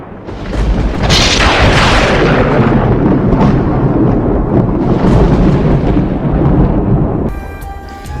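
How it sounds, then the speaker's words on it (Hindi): Thunder in a heavy rainstorm, a loud sharp crack followed by long rolling rumbles over steady rain, close and powerful, fading toward the end. "बादल जोर जोर से गरजने लगे,"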